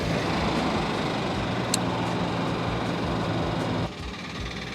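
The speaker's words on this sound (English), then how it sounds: "That's the sound of 10 cylinders running on 7." A V10 gas engine idles rough while misfiring on seven cylinders, a loud uneven loping rumble close by that drops off abruptly near the end.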